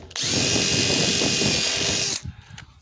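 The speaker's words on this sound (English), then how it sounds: "get a drill" A power drill whirs loudly and steadily for about two seconds, biting through the cracked plastic of a rain barrel, then stops abruptly, leaving faint handling noises.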